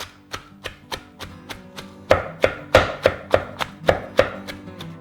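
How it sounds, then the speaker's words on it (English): Salad is chopped in a Holland wooden bowl, with steady, sharp knocks of the blade against the wood coming in an even rhythm of about three per second, close and loud with no talk. "if you put the bowl on some kind of like a little rubber mat underneath it, it makes less noise when you start chopping"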